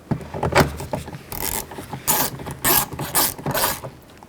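A long screw is driven into a driver door handle on a 1999-2007 Chevy Silverado 2500HD, giving close, loud bursts of ratcheting, rubbing mechanical clicks in uneven spurts, with no talking.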